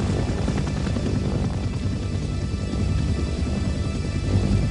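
An AH-1 Cobra attack helicopter idles while the ground crew arms it, giving a steady, loud rotor-and-turbine roar that fills the whole stretch without letup.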